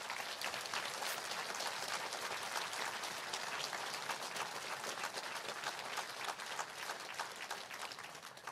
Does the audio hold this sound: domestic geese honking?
no